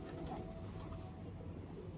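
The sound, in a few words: pigeons cooing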